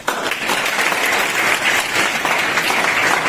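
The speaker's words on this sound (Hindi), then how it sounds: "एक बार अपने लिए जोरदार ताली बजाइए कि आपके मुख में आवाज है" Students in a lecture hall burst into loud, dense applause, a continuous wash of many hands clapping at once with no gaps and no speech over it.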